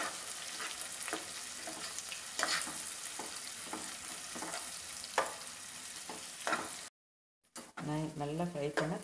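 Two sliced large onions frying in a pan for an egg curry, a dense sizzle with repeated stirring scrapes, cut off by a brief silence and followed by a short burst of busier frying and scraping.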